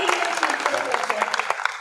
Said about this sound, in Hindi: एक बार आपकी तालियां विष्णु जी के लिए होनी चाहिए